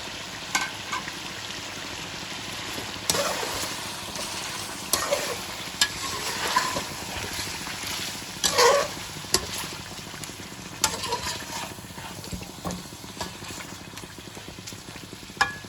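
Onions sizzle and fry in a pan for aloo gosht, with occasional stirring scrapes and clinks over a steady crackling hiss.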